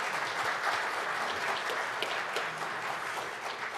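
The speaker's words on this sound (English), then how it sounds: "let's give them a round of applause." Seated crowd at a community meeting gives a round of applause, steady mid-level clapping that runs for a few seconds and eases slightly toward the end.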